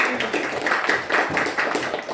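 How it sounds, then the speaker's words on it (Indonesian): A class applauds a student during a social studies teaching session in an Indonesian classroom, with dense, steady hand clapping filling the whole stretch without any talk. "Beri tepuk tangan dulu untuk Diki"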